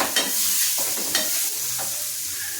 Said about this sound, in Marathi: आता यात आपण टोमॅटो टाकायचा. टोमॅटो छानपैकी मिक्स करून घ्यायचं.